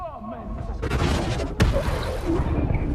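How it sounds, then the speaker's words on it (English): Witch Bolt spell cast in Baldur's Gate 3: a loud, dense crackling magical blast with a sharp crack partway through, over a swelling sustained rumble, with a voice briefly heard. "Let's try the Witch Bolt."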